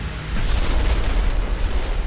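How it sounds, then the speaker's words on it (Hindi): An explosion in the tail engine of an airliner cruising at 37,000 feet comes through as a loud, sustained low boom and roar that swells after a quarter second and rumbles on, heavy and dense. "प्लेन के टेल वाले इंजन में धमाका हो चुका था।"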